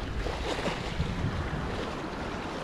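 Sea waves wash onto the shore along a seafront embankment in Sudak, Crimea, on a rainy day, a dense continuous roar of surf mixed with gusty wind buffeting the microphone.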